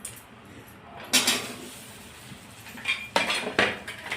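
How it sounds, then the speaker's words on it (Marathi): Potatoes dropped into a cooking pan for street-style Kacchi Dabeli filling, giving a sharp metallic clatter and scrape, then a couple more clanks and rustling later, fairly close with steady background hiss. "आता आपण बटाटा घालत आहोत"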